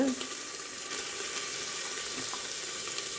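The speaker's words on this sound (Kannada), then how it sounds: "ಈಗ ನಾವು ಪುಡಿ ಮಾಡಿಟ್ಟ ಕೊತ್ತಂಬರಿ ಸೊಪ್ಪು ಮತ್ತು ಹಸಿಮೆಣಸಿನಕಾಯಿನ ಹಾಕೋಣ" Ground coriander leaves and green chillies frying in a pan, giving a steady soft sizzle and hiss that holds evenly throughout, alone and fairly quiet.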